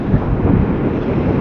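Strong coastal wind buffets a moving motorbike on a seaside ride past windmills, a loud, steady low roar and rumble of wind noise on the microphone throughout, with no speech.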